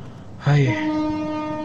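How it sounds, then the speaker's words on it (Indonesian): A ship horn in the video game GTA San Andreas sounds as one long, loud, sustained tonal blast that holds steady to the end, with someone speaking briefly just before it starts. "ini memang suara klakson asli kapal di GTA San Andreas bro"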